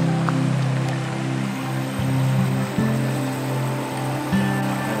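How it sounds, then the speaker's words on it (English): Prairie Creek rushes below a redwood forest trail in a steady, broadband wash of flowing water, heard from a distance under a low drone. "See the water down below and hear it."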